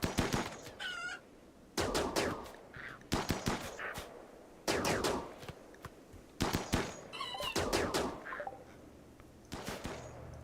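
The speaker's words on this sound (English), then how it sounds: "The sounds of the chickens dying" Chickens dying in the video game RimWorld, heard as repeated sharp bursts of loud gunfire-like impacts in clusters, mixed with brief clucking and squawking cries between the volleys.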